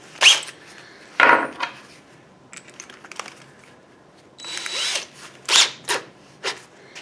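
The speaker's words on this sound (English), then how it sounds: "start with a 3/16 drill bit in my cordless drill." A cordless drill with a 3/16 bit bores into cast iron in short, separated bursts of whirring and grinding, with brief pauses and metallic clicks between runs; no talking.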